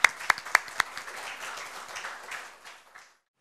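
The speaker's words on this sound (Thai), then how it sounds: "ท่านปรบมือให้อาจารย์ธนิตหน่อยนะครับที่ท่านเป่าขลุ่ยให้" Audience applause for teacher Thanit after his flute playing at a leadership lecture: a few sharp, loud claps up front swell into dense clapping that thins and fades out after about three seconds.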